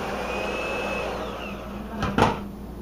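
Electric hand mixer on high beating pear bread batter in a bowl, a steady whirring motor drone with a scraping burst against the bowl near the end.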